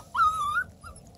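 Black and tan beagle cross puppies whimper: one long, high, wavering whine followed by a shorter, softer whimper, close by and with no talk over it.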